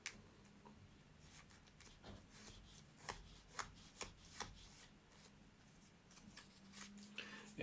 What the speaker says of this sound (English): fold that in. And crease it good.